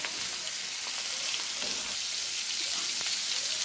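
Two kebabs frying over a medium flame in a pan, giving a steady, close, dense sizzle with light crackle throughout and no talking.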